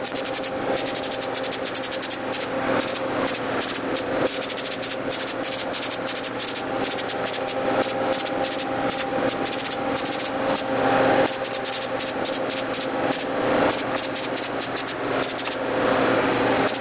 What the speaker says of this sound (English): Use Polyvance's All Seasons waterborne sealer and spray the entire steering wheel.